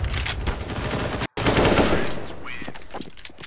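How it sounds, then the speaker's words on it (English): Sharp gunfire bursts and a loud blast-like crack from a Counter-Strike: Global Offensive match in which a flashbang grenade is thrown, with rapid repeated shots, a brief dropout, then a fading ringing tail. "I'm throwing a grenade. Ready, flashbang out."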